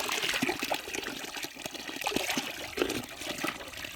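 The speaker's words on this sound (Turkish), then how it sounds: "Şuna bakın pırıl pırıl bir su." Clear, ice-cold water runs steadily from a newly built outdoor fountain at a lake campsite, a close continuous splashing and gurgling with no talking.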